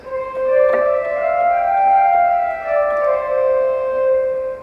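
Bright, full pipe organ principal stop sustains a slow melodic line, steady and resonant, with a few notes changing over a held sound and no talking.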